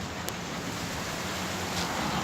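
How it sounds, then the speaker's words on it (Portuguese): Rain falls outdoors as a dense, even hiss of drops close to the microphone, steady and unbroken throughout with no one talking. "Tá pingo de chuva aqui fora."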